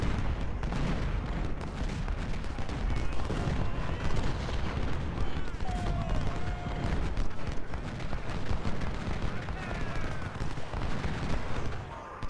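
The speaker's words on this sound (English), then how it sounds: "this 20-pounder appears to be shooting at that gun right there" Cannon fire from 20-pounder artillery guns in the Civil War strategy game Ultimate General: a dense, rumbling barrage of overlapping booms and battle noise that rolls on steadily throughout.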